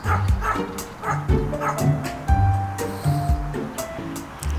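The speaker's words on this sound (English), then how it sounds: "And then they keep barking at you." Little dogs barking repeatedly outdoors in front of an old shed, sharp close yips in quick bursts with short whimpering tones between them.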